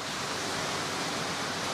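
A high-quality air disc bubbles air into koi pond water, making a dense, continuous fizzing rush like a small waterfall, close and steady with no pauses.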